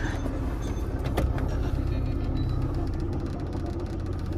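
A Tata Nano's engine idles with a steady low rumble and hum, constant and fairly close throughout with no other sounds over it.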